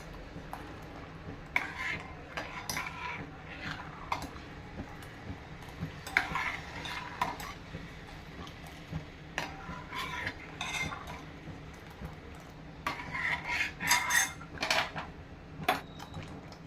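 A spoon stirs rice kheer simmering in milk in a pot on low heat, giving soft intermittent scraping and clinking in short bursts over a quiet background.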